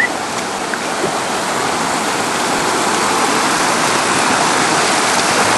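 River rapids rushing in a steady, loud broadband roar of fast water, continuous and close throughout with no voices.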